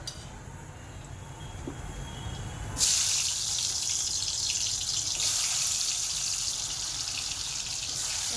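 Spiced mini potatoes fry in hot oil in a pan, a steady hiss that swells sharply partway through and then stays loud and continuous, with no speech.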